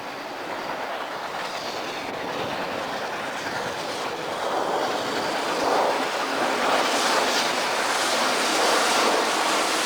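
The Royal Hudson steam locomotive and its train cross the Merced River on the Santa Fe line, a continuous broad rushing rumble with rail clatter that swells gradually louder as it approaches, with no voices.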